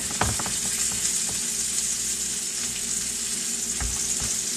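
Sausage patties sizzling in a pan, a dense, steady hiss of frying with a couple of soft clanks, close and unbroken.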